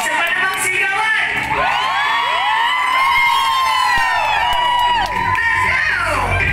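Concert crowd of young fans cheering, whooping and shouting loudly at a live music show, a dense sustained roar of voices with rising high-pitched screams throughout.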